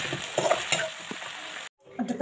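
Onions and tomatoes fry in oil in a kadai, giving a faint, steady sizzle with light stirring scrapes and a brief gap near the end.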